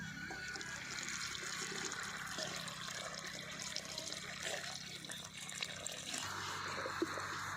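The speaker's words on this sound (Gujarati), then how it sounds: "પાણી નાખીને જો આવી રીતે આમ હલાવવા પડે" Water sloshes and swirls steadily in a container, a continuous wet churning with faint clinks, close by and moderately loud.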